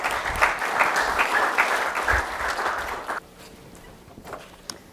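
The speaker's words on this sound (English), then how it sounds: "please give a big round of applause to Dr." An audience at a leadership session of a professional conference breaks into dense applause for three seconds, then it thins out abruptly into a few scattered claps and faint room noise.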